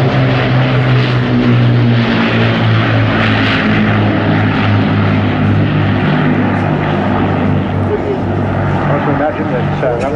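Propeller aircraft flying past at the Bournemouth Air Festival, a loud, sustained engine drone with a throbbing propeller hum that swells and holds, while an announcer talks over it.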